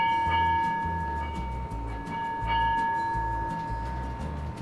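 A 1913 H.K. Porter steam locomotive sounds its whistle with a sustained, steady tone over rhythmic mechanical chuffing and rumble, loud and close.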